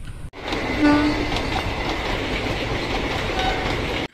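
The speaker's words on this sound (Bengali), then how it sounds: "মুর্শিদাবাদ জংশন স্টেশনের 2 নম্বর প্ল্যাটফর্মে দেখতে পাচ্ছেন ট্রেন ঢুকছে।" A train pulls into platform 2 at Murshidabad Junction, arriving from Kasimbazar, with a brief horn blast over steady rolling rumble and wheel clatter, loud and continuous, with no voices.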